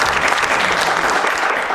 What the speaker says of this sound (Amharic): ዋው ለዚህ ጭብጨባ ያስፈልጋል።